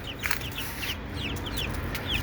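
Young chicks about 18 to 19 days old on a rooftop farm peep and cluck in short, high chirps scattered over a steady low background hum, fairly close and moderately loud.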